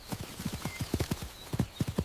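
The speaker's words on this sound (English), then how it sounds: "This is a horse." Horse hooves clip-clop in a quick, steady rhythm of sharp knocks, close and clear, with no voices over them.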